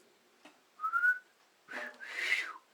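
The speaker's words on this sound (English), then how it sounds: "My brother was one of these guys that could whistle, like that real loud, whistle" A person whistles loudly in short, sharp bursts: a quick rising tone, then a longer two-part shrill blast near and clear against a quiet background.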